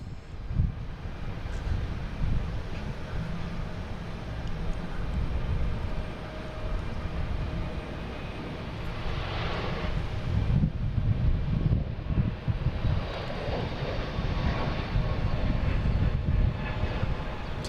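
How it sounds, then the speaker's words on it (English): A Delta Airbus A321neo taking off from Boston Logan, bound for San Juan: a broad, steady engine roar heard from a distance, swelling slightly with wind buffeting the microphone. "What's taking off here? Delta heading to San Juan. An A321neo."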